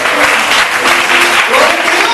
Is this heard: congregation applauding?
yes